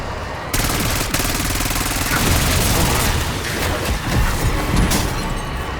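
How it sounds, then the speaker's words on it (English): Rapid automatic gunfire and blasts fill a zombies round of Call of Duty Black Ops 6, dense and loud throughout, with sharp bursts and occasional heavier booms overlapping continuously. "We might want to try to use one of our explosions on these guys."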